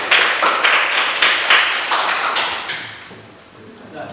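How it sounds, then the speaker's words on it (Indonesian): A classroom group of students claps in applause after a group presentation, a steady patter of many hands that fades toward the end. "Tepuk tangan untuk kelompok auditori."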